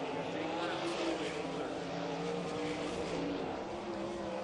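360 sprint cars racing on a dirt track near the end of a race, a continuous loud engine roar filling the clip with a race announcer talking over it.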